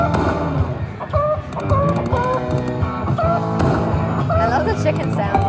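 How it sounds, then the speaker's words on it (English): A Las Vegas slot machine plays cartoonish chicken clucking over a busy electronic jingle. Several short clucks are spread through the noise, and a voice talks over them. "Chicken sounds, they're funny."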